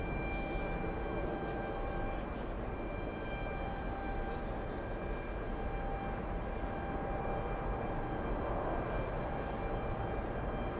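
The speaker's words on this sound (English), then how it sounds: "there goes Alaska Airlines heading out" An Alaska Airlines airliner departs JFK airport in a steady, fairly faint broadband roar of jet engines that holds evenly throughout, with no talk over it.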